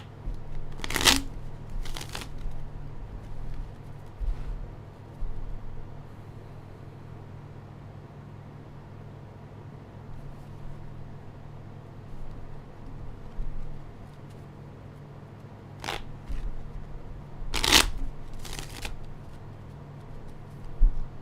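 A deck of reading cards being shuffled, short crisp riffling bursts near the start and again near the end, over a quiet steady low hum with no talking.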